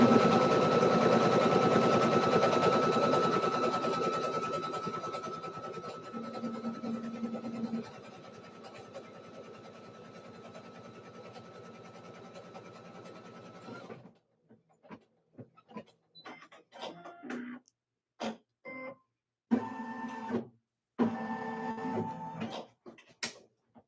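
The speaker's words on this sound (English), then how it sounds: "this design is a type where it stitches down all the fabric and then it starts doing the satin stitches" An embroidery machine stitching down fabric and then sewing satin stitches runs with a steady mechanical buzz for a long stretch, then shifts to choppy, irregular bursts of rapid stitching with brief pauses between them.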